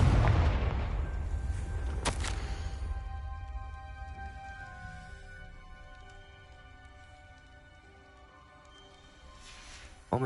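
Confringo blasting spells going off in the Hogwarts Legacy video game: a heavy boom at the start, a sharp crack near two seconds, then a long, slowly fading rumble with ringing tones beneath.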